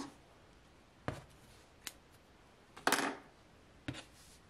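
A few sharp scissor snips cutting yarn, spaced about a second apart, close and crisp against a quiet room.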